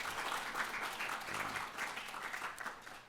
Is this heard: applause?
yes